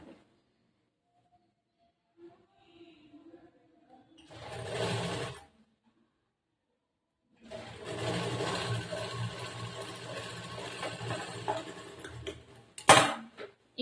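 A sewing machine stitches a curved seam on a chudidar top in two clear bursts of rapid mechanical whirring, one short and one longer, separated by quiet pauses with faint handling sounds and no speech.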